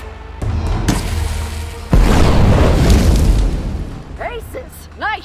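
Explosive barrels blowing up after being shot in the video game Wanderer, a loud booming blast that rumbles and fades over several seconds, then a short burst at the end with a voice talking faintly.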